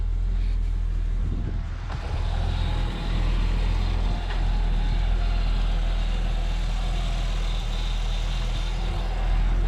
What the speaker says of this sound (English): Car's still running, obviously.